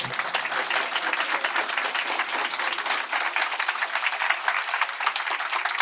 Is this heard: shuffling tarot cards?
no